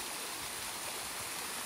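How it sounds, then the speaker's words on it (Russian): A small forest waterfall, greatly reduced from its usual size, gives a steady, soft trickling rush of falling water, even and continuous throughout with no voices. "Вот еще раз водопад, что мы видим"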